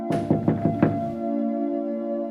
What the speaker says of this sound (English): a low and sluggish knock on the door echoed through the room, breaking the silence.